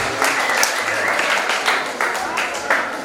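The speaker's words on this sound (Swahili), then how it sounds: "Pigia makofi mazuri na kubariki." A church congregation in Nairobi claps together in a loud, steady burst of applause, with a voice speaking over the clapping.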